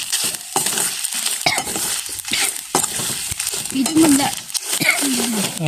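Grated coconut dry-roasted in a pan with chillies for a village-style fish curry, stirred constantly so a spoon scrapes and rattles in quick strokes over a faint sizzle, close up, with some talking in between.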